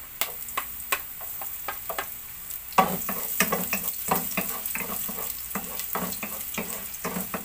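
Garlic fries in a heated pan, a bright continuous sizzle broken by sharp taps and scrapes of a utensil against the metal, growing busier and louder partway through.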